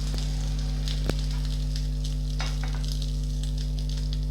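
A ladleful of bun dosa batter hits hot oil in a pan and sizzles steadily, with a brief sharp clink near the start and a low constant hum underneath.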